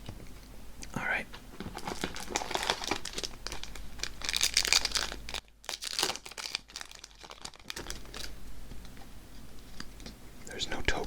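A Magic: The Gathering Streets of New Capenna booster pack wrapper is crinkled and torn open up close, soft crackly rustling in bursts under quiet whispered speech, with a brief hush midway.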